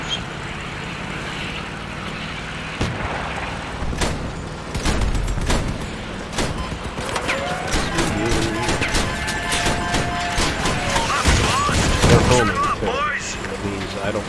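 Rocket launcher fire and explosions in the vehicle combat game Crossout: a string of sharp blasts and booms over engine rumble, with whining, sweeping tones in the middle and someone talking over the action.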